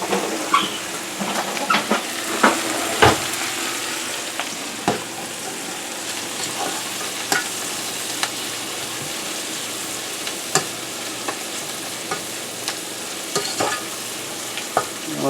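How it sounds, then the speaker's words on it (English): Onion and mushroom pieces saute in butter in a pan for risotto, giving a continuous close sizzle with scattered clicks and scrapes from stirring. "Let those saute up nicely."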